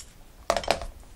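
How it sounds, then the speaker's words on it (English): Two or three sharp, close snips of paper scissors cutting through a zipper, short crisp clicks with a quiet pause between. "So I get my paper scissors"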